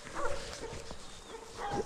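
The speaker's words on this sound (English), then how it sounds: "He's a spectacular dog." A well-trained dog that works around sheep and chickens whimpers and whines in short, high-pitched bursts at close range, with some rustling in the background.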